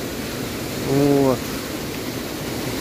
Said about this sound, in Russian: И вот так вот водопад низвергается